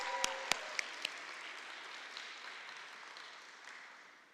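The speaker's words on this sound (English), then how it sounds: "Let's give her a round of applause." A community election gathering gives a round of applause, a few sharp individual claps at first, then a soft spread of clapping that slowly fades away, heard at a distance.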